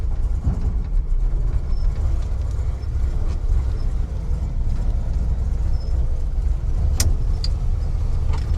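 A 1969 GMC truck drives along with a steady, loud low rumble of engine and road noise from inside the cab, plus a couple of faint clicks.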